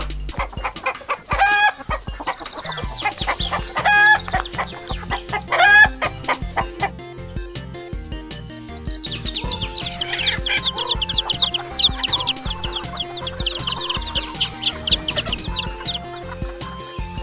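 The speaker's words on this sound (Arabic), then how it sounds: "دجاجة." A farm chicken clucks in rapid repeated bursts, close and loud, followed by busier higher-pitched clucking and chirping from the flock, with no talking.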